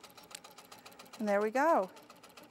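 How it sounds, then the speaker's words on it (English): An HQ Pro-Stitcher quilting machine stitches with a soft, steady, rapid mechanical patter throughout, while a person speaks briefly partway through. "And it will stitch right over the top of where I was."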